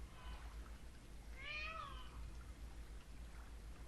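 A peacock in the Second Life virtual world gives one loud wailing call in the middle, over a steady roar of waves at a beach.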